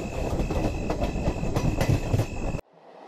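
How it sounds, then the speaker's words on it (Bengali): A train rumbles and clatters along the rails as it pulls into a station late at night, a steady loud roar with a faint whistle-like tone above it, then cutting off abruptly to near silence. "একটা ট্রেন এলো"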